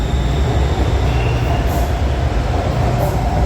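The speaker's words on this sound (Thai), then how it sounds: "ไฟมาแล้วครับ รถไฟมาแล้ว ไฟฟ้ามาแล้ว" A loud, continuous rumble of a passing electric train in Bangkok fills the scene, with steady rolling wheel noise and a faint high whine.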